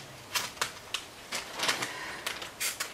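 Plastic bag from a Trumpeter Tu-95 'Bear' bomber 1/72 model kit being cut open with scissors, a handful of quick, crisp snips and crinkles, close and fairly faint.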